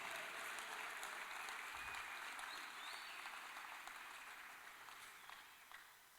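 A church congregation claps in a soft, distant wash that slowly fades toward the end, faint and hall-like, with no voice on top.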